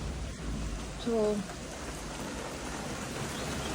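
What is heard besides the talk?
heavy rain falling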